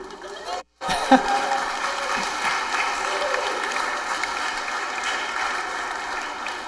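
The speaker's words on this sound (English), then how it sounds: "Eric was getting booed by his friends" A debate audience reacts to a debater being introduced, a sustained crowd noise of booing and murmuring that swells after a brief cutout and holds steady at moderate loudness.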